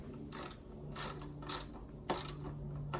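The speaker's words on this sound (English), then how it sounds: "So I'm just going to lightly tighten these again." Bolts being tightened on a Sole F80/F85 treadmill deck, four or five short, close ratcheting bursts from a hand wrench separated by brief pauses, with a faint hum underneath.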